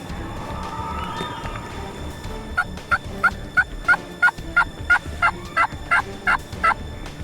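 Wild turkeys gobble in Kansas, a run of about a dozen sharp, evenly spaced rattling calls at mid distance over quiet outdoor background, with an earlier drawn-out bird call.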